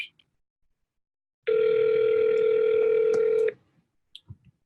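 A phone emits a steady electronic tone lasting about two seconds, loud and alone, with brief faint clicks before and after.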